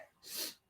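One quick, breathy human sneeze, fairly faint and hissy, rises and fades within a fraction of a second during a casual conversation.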